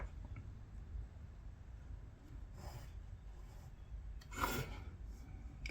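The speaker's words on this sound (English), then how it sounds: "I'm just going to rub those out, those 2 halves there" A pencil eraser rubs out lines on paper during a compass construction of a tile from three hexagons, giving faint soft scrubbing strokes with a couple of slightly louder brushes, close and quiet.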